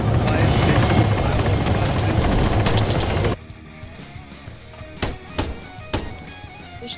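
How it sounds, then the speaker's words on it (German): A helicopter in the video game ARMA 3 gives a loud, dense rotor roar for about three seconds. Then it cuts to quieter background with scattered sharp gunfire cracks. "Helikopter kommt frei."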